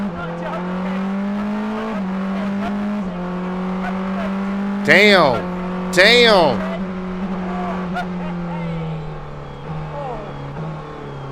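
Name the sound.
Porsche race car driving on road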